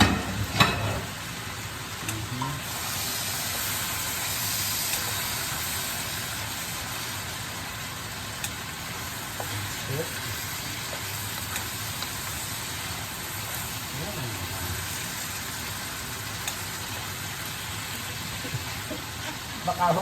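Mixed vegetables with chayote stir-fried in a pan, a steady broadband sizzle and frying hiss running throughout with occasional stirring clatter, while a voice talks faintly over it.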